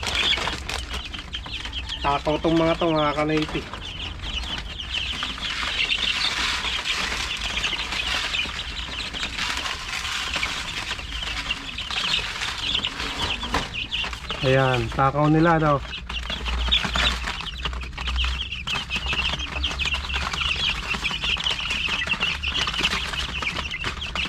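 Chickens in a coop cluck and squawk softly while eating Thunderbird Baby Stag Booster feed, with two bursts of louder crowing-like calls. Someone talks casually over the birds' steady background murmur.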